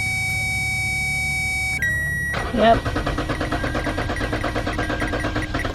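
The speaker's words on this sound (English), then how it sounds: "as you can see, the car is running right now" Lexus IS250/IS350 sedan from the 2006-2013 range with a cranks-but-no-start fault: chiming beeps give way to the engine catching and settling into a steady, close idle, with a brief spoken word.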